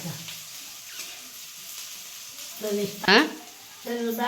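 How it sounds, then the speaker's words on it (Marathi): Chopped bell pepper sautéing in a pan with flour gives a close, crackling sizzle and stirring scrapes, while a voice breaks in with short remarks partway through. "सगळं टाकून घेतलं ते परतून घे चांगलं परतायचं"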